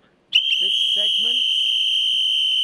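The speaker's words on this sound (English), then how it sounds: "Can you both simultaneously blow the whistle for me right now?" A whistle is blown hard and held as one long, piercing shrill blast, with voices talking beneath it at a live UFC weigh-in show.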